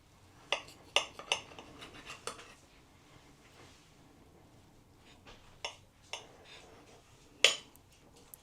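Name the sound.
fork cutting into fluffy pancakes on a plate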